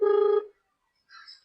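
Telephone dialing a call: a loud electronic dial tone for about half a second, a silent pause, then a softer, higher two-part tone, with no voices.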